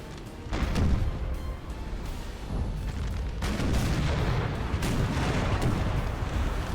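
Artillery fire in the battle game Napoleon Total War, cannon booms and rolling gunfire layered over a dense battlefield roar, loud and continuous.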